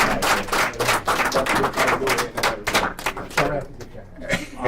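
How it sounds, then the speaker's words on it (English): An audience at a leadership forum on Marcus Garvey and Black freedom claps in sustained applause, dense and steady and then tapering off, with some crowd murmur mixed in. "How about another round of applause?"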